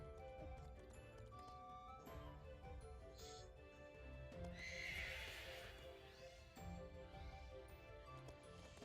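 An ice horse in the Pokémon Crown Tundra video game neighs and whinnies loudly over steady clip-clopping hooves, with layered game music and effects running throughout.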